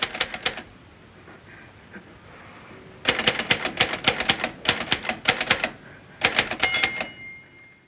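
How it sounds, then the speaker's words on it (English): An office typewriter in a tense scene from the film Diabolique taps in rapid bursts, a short flurry followed by a pause, then longer runs of sharp, loud keystrokes ending with a ringing bell and carriage return. "And in Diabolique, it's the tapping of Michel de la Salle's office typewriter that's immediately menacing."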